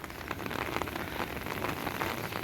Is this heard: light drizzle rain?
yes